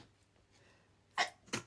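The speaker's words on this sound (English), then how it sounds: "I'm going to sneeze." A person sneezes twice indoors, two sharp, close bursts a few tenths of a second apart after a quiet lead-in.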